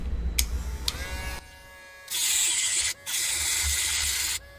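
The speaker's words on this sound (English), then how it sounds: "I'm gonna grind more, or at least attempt to, on the thread protector side, but not down to the threads" Angle grinder working a welded thread protector on a small mini jack, in two sustained bursts of loud, hissing abrasive whine with a short pause and a lower-level buzz at the start.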